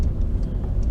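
A car rolls slowly through corners on a road in Scotland, its low steady engine and road rumble filling the space close and constant with no other sounds.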